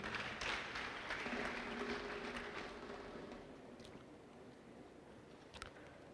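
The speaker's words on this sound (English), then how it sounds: "A round of applause for him, please." Applause rises from the audience at a medical pledge-taking induction ceremony, strongest at first and then thinning and fading, with a few stray sounds near the end.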